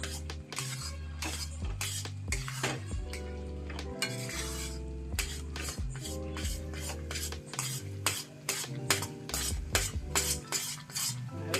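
Wheat flour sheera with ghee and jaggery being stirred in a kadai over a low gas flame, rapid repeated metal clinks and scrapes against the pan over a faint sizzle and low background music.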